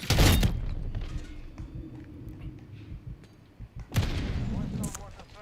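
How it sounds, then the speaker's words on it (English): Mortar strike in Call of Duty: Modern Warfare III, heavy booming impacts landing nearby amid continuous battle rumble, with a loud blast at the start and another near the end, under scattered game voices. "Hostile mortar strike near your position."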